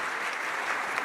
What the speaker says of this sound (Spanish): Por favor, un aplauso a los panelistas.